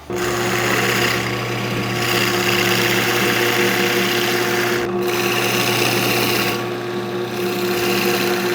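A power drill bores holes in wooden boards, a continuous close motor whir with steady tonal hum and brief dips in the higher grinding noise as the bit works through the wood.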